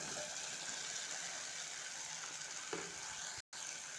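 Capsicum and tomato frying in a pan, a continuous close sizzle with a spoon stirring through it and a brief scrape, steady throughout until a short cut near the end.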